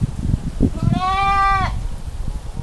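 A single goat gives one drawn-out, wavering bleat of about a second, close and clear, among several goats offered for sale as crossbreds for breeding. Low background murmur and handling noise surround the call.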